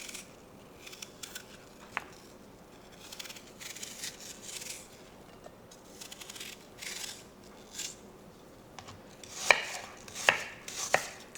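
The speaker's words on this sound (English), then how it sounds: "if you see any bad spots on your apples, you want to cut that off" A knife cuts bad spots off apples, giving soft, quiet chopping and slicing taps that grow into a few sharper, louder cuts near the end, heard alone without talk.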